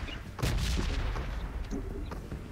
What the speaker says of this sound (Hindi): मैंने ग्रेनेड खोला यहाँ पे